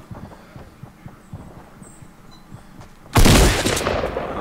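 Faint scattered shots and rhythmic thumps during a video game shootout, then a sudden loud burst of gunfire near the end that stays strong to the close, with no talking.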